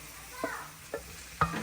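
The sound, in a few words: sautéing onions and tomato in a pan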